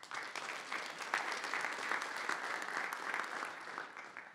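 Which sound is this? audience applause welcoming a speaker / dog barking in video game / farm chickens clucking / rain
audience applause welcoming a speaker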